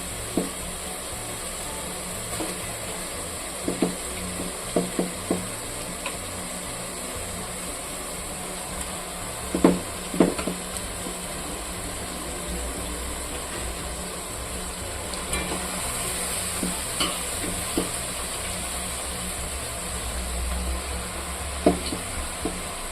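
Country chicken pieces frying and being stirred in a pan for a Nattu Kozhi Kuzhambu, with a low continuous sizzle under scattered spoon scrapes and knocks, moderately quiet throughout.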